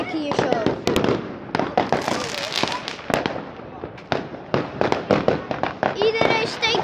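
Fireworks crackle and bang continuously, with many sharp pops at varying distances and voices talking over the noise.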